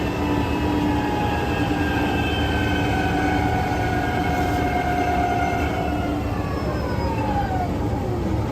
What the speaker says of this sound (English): The train didn't have enough traction for the hill, so the wheels basically turned into giant grinders.